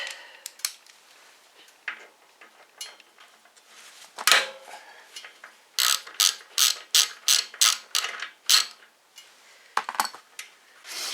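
A 10mm socket wrench ratchets on the carburetor bowl bolt of a snow blower. Scattered clicks at first give way to a fast, rhythmic run of close, crisp ratcheting strokes, then a few more clicks near the end.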